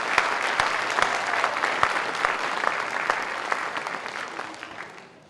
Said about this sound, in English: I'd like to give them a round of applause to start with there.